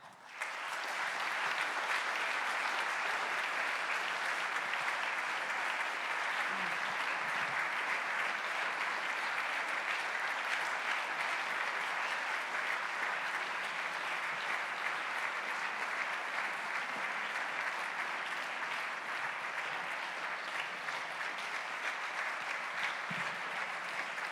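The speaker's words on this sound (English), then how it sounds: "give your candidates a big round of applause as they join me on stage" An audience at a Pangbourne College election hustings applauds as the candidates join the stage. The clapping is a sustained, dense and even roll that lasts throughout.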